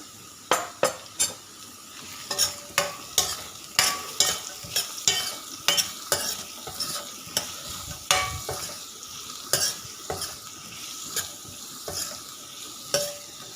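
Two small chopped onions sizzle in a pan while a spoon stirs them, striking the metal in a rapid, uneven run of sharp clinks and scrapes over a continuous frying hiss.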